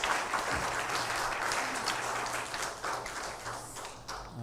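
A congregation at a university chapel service applauds steadily, a dense wash of clapping that holds for several seconds with a low hum beneath.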